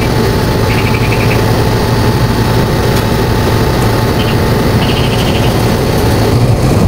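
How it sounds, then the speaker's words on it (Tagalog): Compressor of a Koppel 3-ton floor-mounted air conditioner running, a loud, steady low hum and rumble with constant vibration, and faint short higher tones now and then. "So andar pa niya ang compressor."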